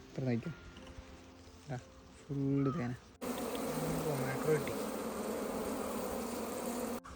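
Honeybees buzz around a colony, a dense, close swarm hum that rises sharply partway through and holds steady, preceded by a few brief voices and handling sounds.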